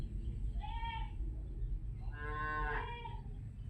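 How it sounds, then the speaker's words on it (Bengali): Goats bleat in two drawn-out calls, a shorter one followed by a longer, wavering one, under a low background rumble, fairly faint and alone. "আমার এই যে ছাগলগুলো মেমাচ্ছে, দেখি কি হয়েছে"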